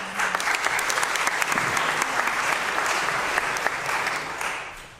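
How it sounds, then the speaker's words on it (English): Large room audience at a healthcare policy gathering breaking into sustained applause, a loud, dense crackle of many hands clapping continuously for several seconds before easing off slightly at the end. "I think we all should applaud ourselves for that."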